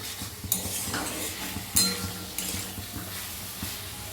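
Soya chunks with a pinch of sugar stirred in a pan, a spoon scraping and clinking against the metal with soft sizzling underneath, irregular close strokes at low volume.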